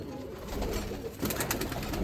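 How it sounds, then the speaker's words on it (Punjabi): A pigeon bought for 700 rupees coos while held in someone's hand on a rooftop, giving soft, low, continuous murmuring close by with some background noise. "ਇਹ ਵਿੱਕੀ ਵੀਰ ਜੀ ਉਹਨਾਂ ਦੇ ਹੱਥ 'ਚ ਹੈਗਾ ਇਹ ਕਬੂਤਰ"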